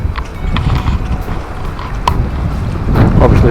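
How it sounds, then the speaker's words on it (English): Wind buffets the microphone on a lochside forest trail at Loch Garten and Loch Mallachie in Abernethy, beneath the Cairngorms, a steady low roar that swells louder toward the end, with no voices. "Oh, the wind's coming right towards me"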